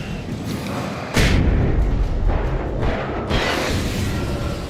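A flashbang goes off in a video game as a loud, heavy boom, followed by a thick, muffled rumbling wash that fills the rest of the moment.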